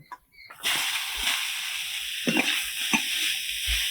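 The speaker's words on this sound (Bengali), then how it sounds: "হালকা করে ঘিয়ের মধ্যে গাজরগুলো ভেজে নেবো" Grated carrot hits hot ghee in a wok with a sudden loud sizzle after a quiet start, then keeps frying steadily while a utensil stirs and scrapes a few times.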